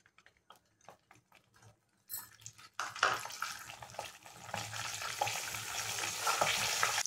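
Eggs crackle and sizzle steadily in a hot pan after a few soft ticks and taps, the frying growing louder and continuous.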